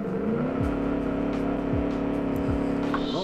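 A V8 GT car from a 1946 Gasmea road test in a car-design game pulls away from a standing start, its engine droning steadily at high revs with quick upshifts every second or so, loud and close, with no voices.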